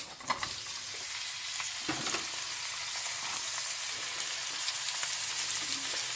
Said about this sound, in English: just break up and brown your mince off for about 5 minutes